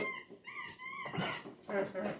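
Two dogs, one five years old and one a year old, squeaking and whimpering in high, wavering whines at close range, mixed with a person talking and kitchen clatter.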